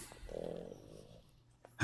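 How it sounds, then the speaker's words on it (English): A small dog snores softly nearby, a low rumbling breath in the first second that fades away, quiet and alone before a brief knock at the end. "I can actually hear him snoring."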